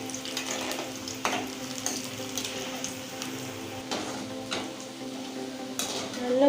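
Cauliflower 65 deep-frying in oil over a medium flame gives a continuous bubbling sizzle, with occasional scraping and clinking from a spoon turning the pieces in the pan.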